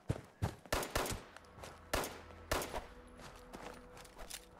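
Gunfire in the video game Fallout 76: a burst of sharp, loud shots in irregular quick succession, followed by a few softer scattered pops as the exchange tapers off.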